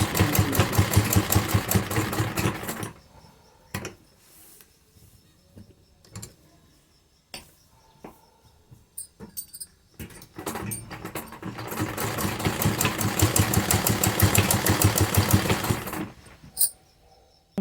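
A sewing machine stitches lace onto a kurti neckline, running in two loud rapid whirring bursts at the start and end, separated by a quieter stretch of handling clicks and taps.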